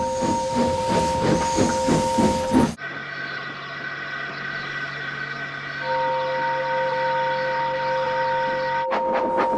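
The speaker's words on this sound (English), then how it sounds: "Poor Gordon, he couldn't stop whistling, and he puffed sadly away." A steam locomotive whistle blows long, steady tones, cutting out and restarting, with hissing steam beneath.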